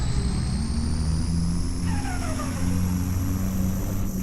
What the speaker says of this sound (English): Hear that turbo whine.